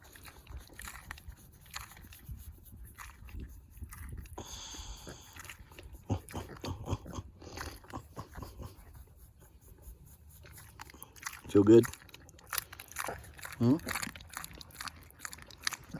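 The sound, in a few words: pig chewing and crunching food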